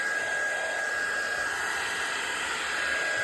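A heat tool blowing hot air to dry ink sprays on a junk journal page, a steady, close whooshing drone with a thin high whine, unbroken and without voices.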